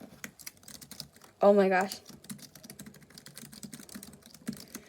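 Small keys on an OMOTON KB505 Bluetooth keyboard click in quick light taps, close up, scattered through the clip under a woman's speech, with one brief loud exclamation.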